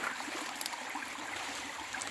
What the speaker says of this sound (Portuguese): Temos aqui o nosso riacho que está cheio.